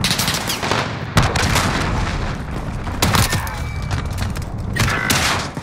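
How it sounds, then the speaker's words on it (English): Explosive blasts and heavy gunfire from a cruise missile strike in a Modern Warfare Search and Destroy match, loud and continuous with sharp booming impacts near 1 and 3 seconds. "Enemy cruise missile incoming!"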